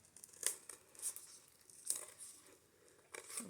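Scissors snip paper pages loose for a small bird junk journal, a few separate crisp cuts with a crinkly tearing edge, close and quiet, spaced irregularly with soft handling between.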